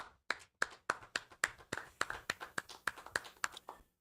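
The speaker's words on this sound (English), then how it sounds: "All right, let's clap it up." A small class claps in a slow, even rhythm, about a dozen sharp, distinct hand claps at steady intervals in a quiet room, with no talk.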